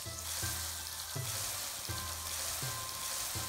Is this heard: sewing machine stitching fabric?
no